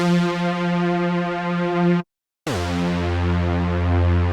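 A basic detuned saw-wave synth lead plays sustained, buzzy harmonic-rich notes, loud and alone, with a brief silent gap midway before the tone resumes.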